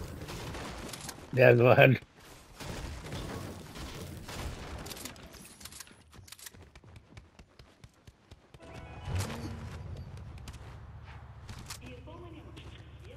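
Shotgun fire in a video game bursts out in one loud, close blast early on. Quieter game clatter and footsteps follow under a player's voice.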